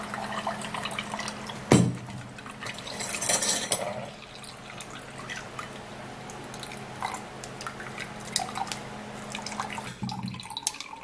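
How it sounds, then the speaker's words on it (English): A homemade skin-remedy drink is poured and sieved through a strainer, giving a close, continuous trickle and drip of liquid with a couple of louder splashes and clinks from the vessel. "I'll have to sieve it out."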